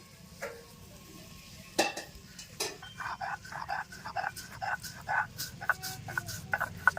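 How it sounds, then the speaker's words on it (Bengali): Poppy seeds ground by hand make quiet, rhythmic scraping and grinding strokes up close. The strokes grow steadier and more frequent after a few sporadic knocks. "এখন পোস্তটা বেটে নেবো"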